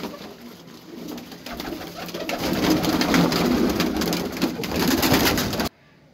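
Teddy breed pigeons coo steadily and close by in a Lahore loft, with soft wing shuffles and rustling underneath, and the sound stops abruptly near the end.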